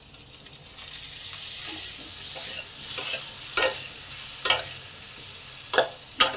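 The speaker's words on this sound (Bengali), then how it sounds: "আলুগুলোকে একবারে লাল লাল করে ভেজে নেব।" Potatoes fry in a pan with a little turmeric for chicken khichuri, a soft sizzle under repeated spatula scrapes and sharp clacks against the pan, growing louder toward the end.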